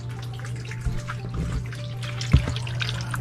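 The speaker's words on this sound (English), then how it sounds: "I hear the pump running." A DIY home hydroponics system runs with a low steady pump hum while water trickles and drips back into the reservoir, quiet and close, with a few small splashes.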